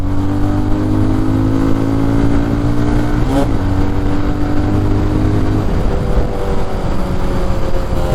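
Bajaj Pulsar 220F motorcycle engine droning steadily while being ridden, loud and close, with the pitch shifting as the revs change midway.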